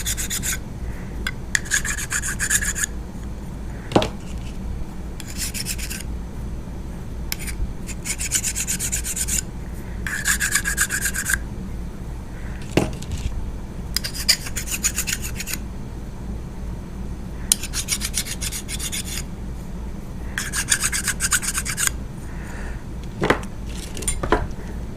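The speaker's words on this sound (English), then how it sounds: "We're just going to deburr the top with a file." A hand file deburrs the top edges of fiberglass roof pieces in repeated rasping bursts of strokes, with brief pauses and a few sharp knocks between passes, close and clear with no talking.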